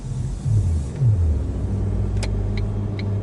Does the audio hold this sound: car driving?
yes